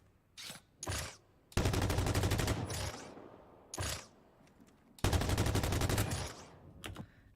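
Sustained bursts of video game gunfire, two long automatic volleys with rolling tails separated by short sharp shots and handling clicks, loud and close with no talking.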